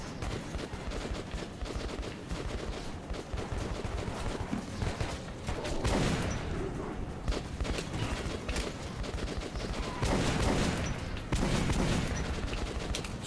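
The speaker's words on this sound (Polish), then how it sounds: "Trzeba im po dwa strzały strzelać to." Gunfire rattles in Metro 2033 as a horde is shot down, with fast repeated shots over a constant din and two heavier bursts of fire partway through.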